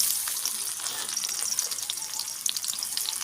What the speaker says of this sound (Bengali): তেলটা গরম হয়ে গেছে, এবার আমি পেঁয়াজগুলো ভেজে নেব।